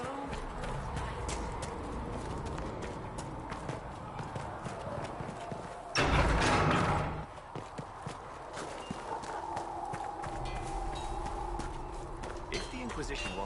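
Galloping horse hooves in the fantasy video game Dragon Age Inquisition, a steady rapid clip-clop run close up, with a louder burst near the middle and game speech over it.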